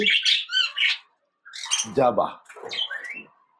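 Pet budgerigars chirp and squawk in bright, rapid bursts, several calls overlapping up close with a brief pause between.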